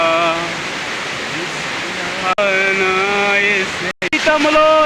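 Steady broadband rush of the Gunagummi waterfall runs through the whole stretch, close and full, with a melodic singing voice carrying over the water and a couple of brief dropouts near the end.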